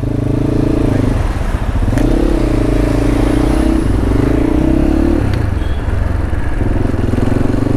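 A dirt bike engine runs steadily and loudly up close, its low rumble shifting pitch as it revs, with some rattling clatter.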